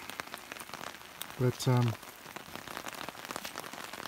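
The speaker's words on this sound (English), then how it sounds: "the rain does seem to be coming in pretty hard" Heavy rain pours steadily on surfaces and an umbrella at a riverside fishing spot, a dense continuous patter, with a short spoken word and a brief louder tonal sound breaking in near the start.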